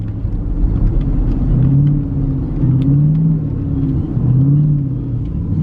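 A tuned Jeep Trackhawk engine rumbles close and loud, with repeated gentle revs swelling and easing over a deep idle, and no talk over it.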